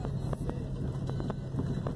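Horse hooves clip-clop along an outdoor trail in a steady, regular rhythm of hoofbeats, mid-distance, over a constant background of outdoor noise.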